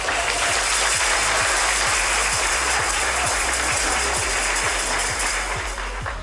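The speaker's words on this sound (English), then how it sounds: "Let's give a huge round of applause for Phigenics." Steady, dense applause for Phigenics at a Best Places to Work awards event, sustained and fairly loud for several seconds with a regular low thumping running underneath and no talk over it.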